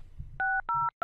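Three crisp telephone keypad tones beep in quick succession as a number is dialed, each a clean electronic double-pitched note, following a faint low rumble.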